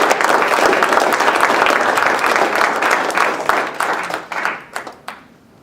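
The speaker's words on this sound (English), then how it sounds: "let's give her a round of applause" Audience at a city council meeting applauding a young swimmer, a full burst of clapping that holds steady and then thins out into scattered claps and fades away.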